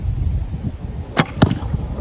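Two sharp arrow releases from a recurve bow, about a quarter second apart, each a quick snapping thwack over steady outdoor wind noise.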